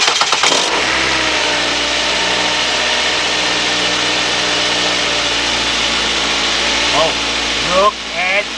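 A 2007 Ford Focus with the 2.0 engine, being repaired for a cylinder misfire, cranks and catches, then settles into a steady, loud idle that runs continuously close by, with a brief rev near the end and voices speaking over it.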